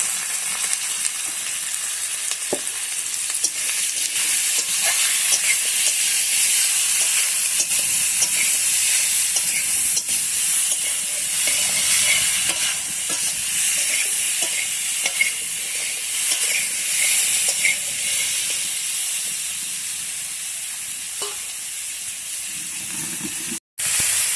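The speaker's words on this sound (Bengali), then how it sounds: "তো আলু আর মিষ্টি কুমড়ার ডাঁটাটা ভালো করে ভাজা ভাজা করে নিয়েছি" Potato and pumpkin stems fry steadily in a pan with a constant loud sizzle and hiss, occasional stirring scrapes, and no talking.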